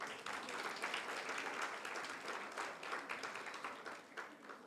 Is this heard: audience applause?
yes